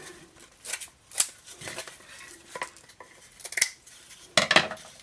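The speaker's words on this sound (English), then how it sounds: "Then I come to the end of the roll and I'm going to just cut it away" Scissors cut deco mesh ribbon free from the end of its roll while a fall wreath is being made, heard as a few sharp snips and crinkly rustles, with the loudest burst near the end.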